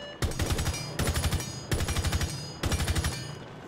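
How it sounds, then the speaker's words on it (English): LMG fired in short bursts in Rainbow Six Siege, four loud rapid-fire volleys of about half a second each with brief gaps between them, up close and alone. "So that's the burst fire."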